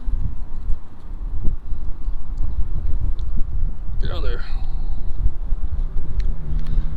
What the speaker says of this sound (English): that wind's really picking up right here